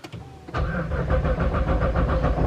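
A Nissan GT-R running on ethanol fires up from cold with a sharp start, then settles into a loud, steady, close-up engine rumble with a rhythmic pulsing idle.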